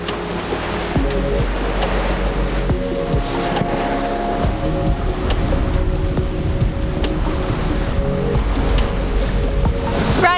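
Sailboat running downwind on the open ocean in fog, a continuous wash of waves and water rushing along the hull with wind noise, steady and fairly loud throughout.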